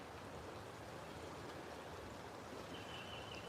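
A creek running full after heavy rain, a steady broadband rush of water that holds constant and close throughout, with no voices.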